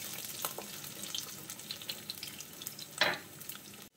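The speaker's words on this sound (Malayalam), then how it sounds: "വെളുത്തുള്ളി ചെറുതായിട്ടൊന്ന് ബ്രൗൺ കളറായിട്ട് വരണം." Garlic fries in a pan for ambazhanga pickle, giving a steady close sizzle. A brief louder burst comes near the end, then the sound cuts off abruptly.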